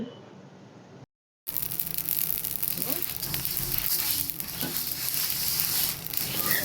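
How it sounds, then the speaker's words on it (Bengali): Fenugreek and black cumin fry in oil on low heat for a sweet-sour-spicy raw mango pickle, producing a continuous close sizzle with occasional stirring after a brief pause at the start. "মেথি আর কালো জিরাটা বেশি ভাজলে তেতো হয়ে যায় সেজন্য সবার শেষে দিলাম"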